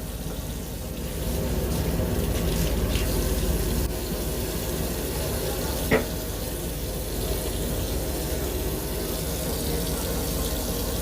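Water runs steadily from a washbasin tap aboard a Howrah–Kamakhya Vande Bharat sleeper train, a constant close hiss with a single brief clink partway through.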